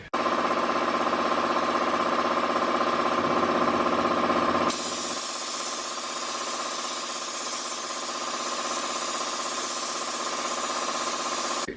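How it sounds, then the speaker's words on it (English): An air compressor with a slow leak feeds a paint spray gun while the interior of an R32 Skyline drift car is painted, giving a loud, steady mechanical drone that drops to a lighter constant hiss partway through, with no talking. "the compressor has a slow leak, but it should do the trick"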